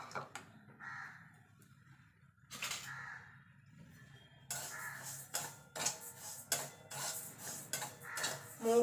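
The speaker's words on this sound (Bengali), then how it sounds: "প্রথমে মুগ ডালটাকে ভেজে নেব।" Moong dal dry-roasting in a pan for vegetable khichdi, with sparse scraping and clinking of a utensil at first, then busier, steady stirring and scraping in the second half, close and moderately loud.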